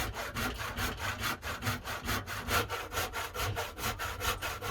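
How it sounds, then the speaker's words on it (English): A handsaw cuts through wood, the steady back-and-forth strokes rasping in an even rhythm of about four per second, close and continuous with no talk. "Then I cut this other side off of the table, again using the handsaw."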